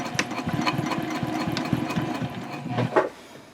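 A sewing machine runs in short bursts, back-stitching over the same stretch of a handbag pocket several times, a close mechanical whir with a fast rhythmic needle clatter that stops near the end.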